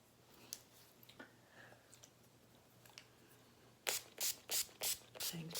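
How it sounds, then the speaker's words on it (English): Setting spray misted from a pump bottle during makeup: five or six short, crisp hissing spritzes in quick succession, close and clear, after a few quiet taps and clicks. "Setting spray again."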